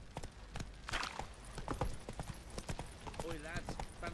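Hooves of Roach, the horse in The Witcher 3, clip-clop in a steady walking rhythm, close and moderately loud, mixed with game sounds and voices talking over them.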